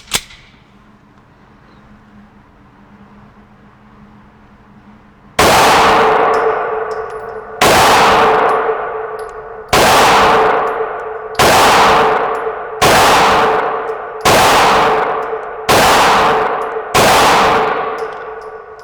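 A Smith & Wesson EZ 9mm pistol fires eight loud, sharp shots at 7 yards on a range, spaced about two seconds apart in a slow, even cadence, each crack ringing out briefly after a quiet opening.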